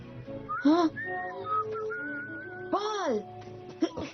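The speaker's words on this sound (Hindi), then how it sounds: "मैंने आपकी सीटी सुनी।" A person whistles a short melodic tune of rising and falling notes in an animated film scene, with brief vocal-like sounds mixed between phrases.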